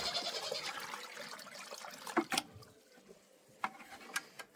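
Molasses water is poured into a container on a snowy homestead, a steady splashing gush that tapers off into scattered drips and small knocks, close by and moderately quiet.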